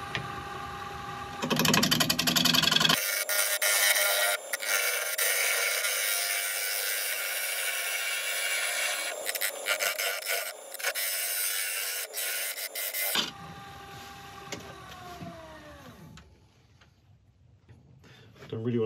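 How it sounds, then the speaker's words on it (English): A gouge cuts into wood spinning on a wood lathe, making a loud, continuous rasping whir for about ten seconds before the noise drops away and the spinning winds down. "I'm going with the gouge. A slightly more purposeful cut."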